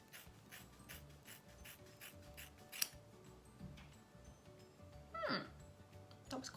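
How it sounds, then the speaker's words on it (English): Scissors cutting hair close up: a series of quiet, rhythmic metallic snips, with a few sharper clicks, soft and intimate with no talk. "at least you can see me cutting it"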